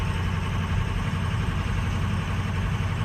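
Anchor truck engine running steadily under light throttle with a low, constant rumble and vibration; an even, continuous drone close to the microphone, with no talking.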